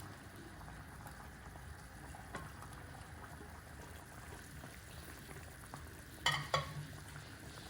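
Paneer added to butter masala gravy in a pan, a soft steady sizzle and bubbling with light stirring, plus a couple of brief clatters near the end, no voices.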